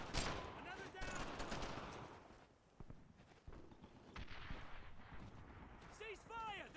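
Gunfire and artillery in the World War II shooter Brothers in Arms: Earned in Blood, with repeated sharp rifle and machine-gun bursts and heavy booms scattered throughout, mixed with shouted voices and battlefield clatter.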